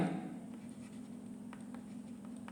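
Pen or pencil writing on paper during a maths lesson, soft scratchy strokes in short irregular bursts over a steady low hum, faint and close.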